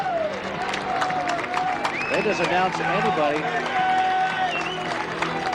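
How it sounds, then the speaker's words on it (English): A football stadium crowd at a high school game between Massillon and Austintown, cheering and clapping loudly and continuously after an announcement over the PA system, with someone talking over the steady roar. "They mention anything over this PA system, and this crowd goes nuts."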